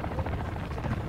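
A helicopter in the DMZ game throbs with a loud, continuous low rotor chop, close and steady, with no talk over it.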